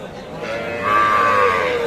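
A single drawn-out moo from a dairy cow at a livestock market, low at first and then rising into a louder, sustained call, close by.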